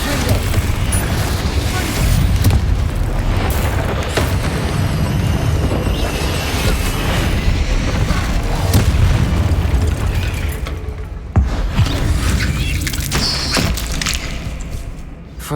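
Repeated Confringo fire-spell explosions in the game Hogwarts Legacy, loud booming blasts piling up continuously across the whole stretch amid dense battle noise, with brief lulls near the end.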